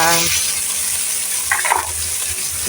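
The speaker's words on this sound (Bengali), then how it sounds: "আমার পেঁয়াজটা একটু ভাজা ভাজা হয়ে আসছে" Onions frying in a pan give a steady hiss and sizzle, with a brief clink or scrape of stirring near the middle and no talk.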